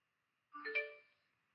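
A short electronic chime from a Bluetooth module fitted in a 1981 Porsche 924's Blaupunkt Essen R24 cassette radio: a few quick rising tones, clear and fairly soft, fading out in silence.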